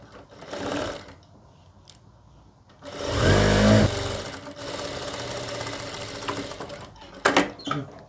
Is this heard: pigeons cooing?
no